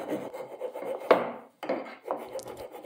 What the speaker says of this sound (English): So I rounded off all the edges and corners with the rasp.